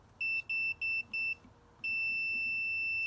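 A multimeter continuity test on a Kawasaki JS550 starter gives a high electronic beep in four short pulses, then holds as one steady continuous tone, fairly faint.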